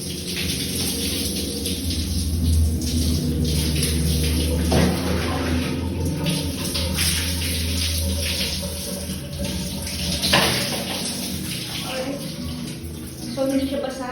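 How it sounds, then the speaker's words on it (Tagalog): Warm water is poured over hair during washing after chemotherapy, a continuous splashing flow with a couple of louder gushes, while someone talks over it. "kaya gamitin natin ulit yung manigamgam na tubig"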